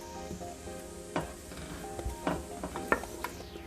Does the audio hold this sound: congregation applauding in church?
no